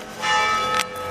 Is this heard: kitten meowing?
no